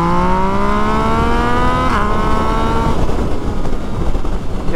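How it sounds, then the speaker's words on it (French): A Yamaha MT-09 motorcycle accelerates hard in second gear in standard mode, its engine note rising steadily, then briefly shifting and fading into wind and road rumble, loud and close throughout. "je suis en 2, je vais essayer d'accélérer en mode standard fort"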